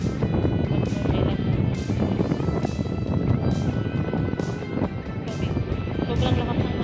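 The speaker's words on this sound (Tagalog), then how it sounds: "Sobrang lakas ng hangin, grabe." Very strong wind sweeps across the Laguna de Bay lakeshore at Bagumbayan, Taguig, roaring continuously against the microphone with periodic harder gusts and no letup.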